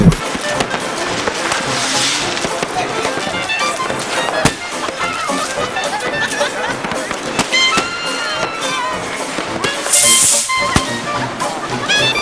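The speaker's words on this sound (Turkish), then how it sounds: "Avrupa'da 7 gün kamerası da göğe yükselen havai fişeklerle adeta hız yarışındaydı." Continuous crackling and popping fireworks over Vienna, dense and loud, with sharp cracks and hissing flurries layered over a distant rumble.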